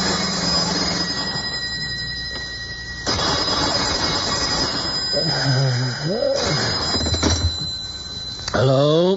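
A telephone rings late at night in an old-time radio drama, a bright repeated bell trill sounding in bursts against background music, with brief voices and a few clattering noises near the end.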